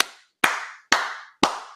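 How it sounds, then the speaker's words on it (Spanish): Four crisp, evenly spaced hand claps, each a sharp close slap with a short ringing decay, separated by silence. "Aplaudir, pero bueno, hasta que se rompa las manos"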